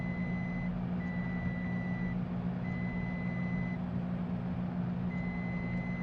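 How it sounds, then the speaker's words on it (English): Autopilot warning tones from a Cessna in Microsoft Flight Simulator sound as steady beeps that repeat in on-and-off bursts over a constant, loud engine drone. "Okay, I'm done spamming the autopilot button."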